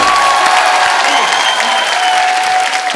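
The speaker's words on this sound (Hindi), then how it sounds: "जोरदार तालियां हो जाए एक बार साइना के लिए और मेरे तीनों दोस्तों के लिए।" A studio audience at a TV comedy show bursts into steady, loud, dense applause that fills the whole moment with no gaps.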